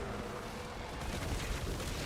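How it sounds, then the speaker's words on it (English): Dense, rumbling explosions and blasts from a Diablo IV warlock battle, continuous and loud with a booming low end throughout. "Explosions."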